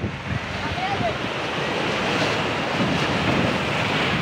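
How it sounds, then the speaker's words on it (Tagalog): Ocean waves breaking on a shore near a beach camping spot, a continuous loud rushing surf with heavy wind buffeting the microphone throughout. "Sobrang gandang tingnan yung mga alon dito"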